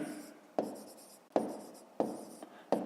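Numbers are written by hand for a fifth-grade maths exercise, heard as close pen strokes on paper in four short scratchy bursts, each opening with a sharp tap and trailing off.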